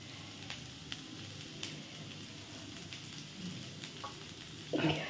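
Grated coconut and nuts fry in a pan for bhog khichuri, a quiet continuous crackling sizzle with a few faint utensil taps and a brief louder scrape near the end.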